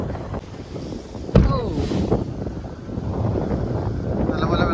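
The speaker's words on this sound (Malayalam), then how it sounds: "നല്ലപോലെ വെള്ളം അടിക്കുന്നുണ്ട് കേട്ടോ." A fishing boat out in the deep sea while water slaps and splashes steadily against the hull, with strong wind buffeting the microphone and one sharper slap of water partway through.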